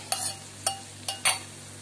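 Beaten egg poured into frying cabbage masala for Burmese athoo fry and stirred, giving four short scraping strokes of a spoon in the pan against a faint steady sizzle, with no talking.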